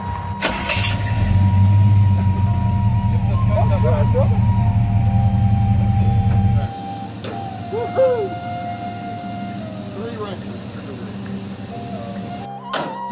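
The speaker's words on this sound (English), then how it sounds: "it's a fast running truck" A truck engine runs loud and steady at close range, then cuts off abruptly about halfway, leaving quieter outdoor ambience with a few faint tonal chirps.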